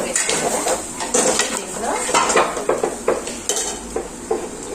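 A spoon scrapes and clanks around a pan while chili masala is mixed into frying boti (goat tripe), with close rhythmic metallic strokes over a light sizzle.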